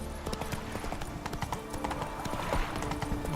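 Horse hooves galloping in The Witcher 3 video game, a rapid rhythmic clip-clop of the mount running steadily, close and prominent.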